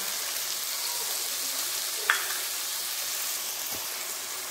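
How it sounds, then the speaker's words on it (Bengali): Ground turmeric, chilli, cumin and coriander sauté in a pan for duck curry, giving a steady, moderate sizzle with a single sharp utensil clink midway. "মশলা ভালোভাবে কষিয়ে নেব।"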